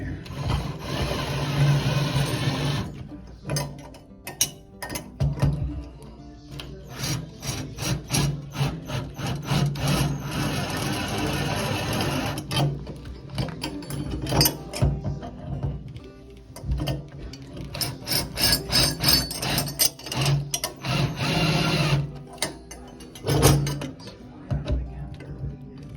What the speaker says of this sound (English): So we're going to try to set these most of the way with that nut driver.